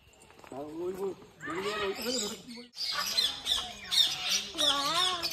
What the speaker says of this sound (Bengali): ওই দেখ পাখি, টিয়া পাখি